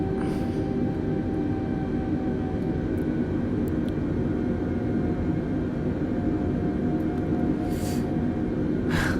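An Airbus airliner taxis toward the gate in Microsoft Flight Simulator 2020, its engines giving a steady, loud rumbling drone throughout, with a few faint higher clicks and no voices.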